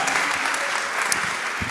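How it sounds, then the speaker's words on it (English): Audience applause fills a hall at the final presentations of a German-Brazilian EdTech hackathon, a dense, steady wash of clapping from a crowd that holds evenly throughout. "Clap your hands for Felix"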